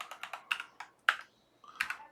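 Computer keyboard keys pressed in quick, crisp clicks for a Control V paste, a close, quiet flurry of about a dozen taps with a brief pause in the middle, no talking.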